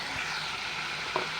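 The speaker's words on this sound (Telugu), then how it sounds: "చికెన్ బాగా ఫ్రై అవుతుందండి, గోల్డెన్ కలర్లోకి వస్తుంది" Chicken frying in a pan for curry gives a steady, close, even sizzle all the way through, with one faint clink near the end and no voices.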